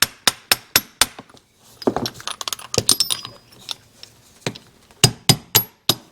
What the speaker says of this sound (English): I'm just going to take a socket here and maybe I can just tap it down